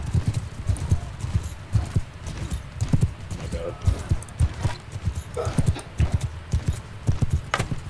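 Horses gallop in Bannerlord multiplayer PvP battle, a dense, rapid clip-clop of many hooves that runs steadily throughout. Players talk over the hoofbeats.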